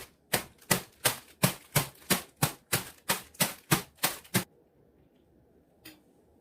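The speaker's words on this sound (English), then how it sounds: "crush the ramen in the bowl, or in the wrapper, and empty into a bowl" Dry instant ramen noodles are crushed in the wrapper or bowl: about a dozen sharp, evenly spaced crunches come close and loud, then stop, leaving near silence.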